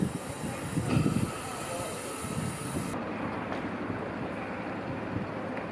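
A narrow gauge train on the Llanberis Lake Railway rolls past along the lakeshore, a steady rumbling run with a brief hiss early on, heard alone at moderate distance.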